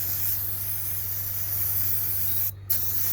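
Aerosol spray cleaner hissing steadily onto gritty grime on a Royal Enfield 350 Meteor motorcycle, one continuous close spray with a brief pause near the end.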